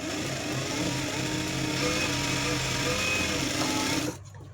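A sewing machine stitching a blouse runs steadily in a close, continuous whirring hum for about four seconds, then stops abruptly, leaving a quieter room tone.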